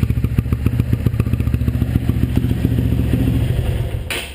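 A Honda CBF 125 motorcycle engine starts and idles close by with a steady, rapid thumping putter, the single-cylinder beat continuing loudly throughout before a brief click near the end.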